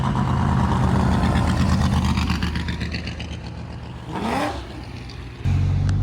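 At a Sick Summer drag-and-drive event by the Mississippi River, a race car roars nearby with a loud engine drone that fades, followed by a rising pass-by whine and another engine surging close at the end.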